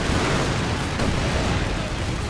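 Incendiary artillery exploding on a battlefield in Company of Heroes 2: a dense, continuous, loud roar of blasts and rumbling with no clear gaps.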